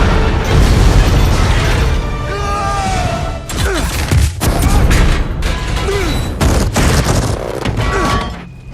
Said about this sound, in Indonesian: meminta Jarvis untuk meledakkan Mark 42.